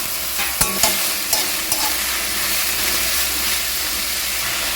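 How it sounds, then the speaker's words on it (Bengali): Water lily stems with green chilies frying in very hot mustard oil in a wok give off a loud, dense, continuous sizzle, with a few sharp spatula clicks early on and no talking. "ভেজে নেওয়ার জন্য কড়াইতে সর্ষে তেল দিয়ে দিয়েছি খুব ভালো করে গরম হয়ে গেছে"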